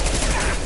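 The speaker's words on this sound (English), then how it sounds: "Sometimes I just prefer a straight up pistol shot" Gunfire from a pistol in the Mass Effect video game: a brief, loud, dense burst of shot noise that stays near and forceful for the whole moment.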